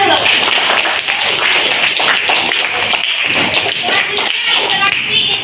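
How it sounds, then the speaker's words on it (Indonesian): Fifth-grade primary school pupils in a classroom clap their hands together, loud and sustained throughout, with children's voices mixed in. "Kasih tepuk tangan dulu"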